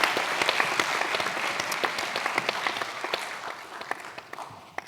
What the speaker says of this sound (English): Can we give the teams a round of applause?